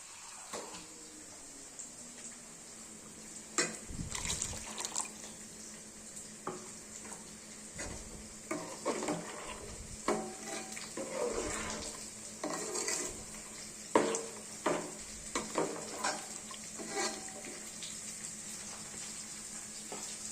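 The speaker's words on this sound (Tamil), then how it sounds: "நமக்கு தேவையான குழம்பு எவ்வளவு தேவைப்படுகிறதோ அவ்வளவு தண்ணீர் கலக்கிக் கொள்ளலாம்." Water being stirred into curry gravy in a pan, heard as soft intermittent scraping and swirling strokes with faint sizzling and light clinks of a utensil against the pan, close by over a steady background hum.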